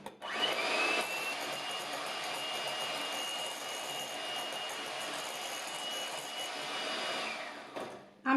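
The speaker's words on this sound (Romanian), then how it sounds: "Esența de vanilie și gălbenușurile. Și continuăm mixarea." Electric hand mixer whirring steadily as vanilla essence and egg yolks are beaten, a continuous high motor whine lasting several seconds before cutting off abruptly.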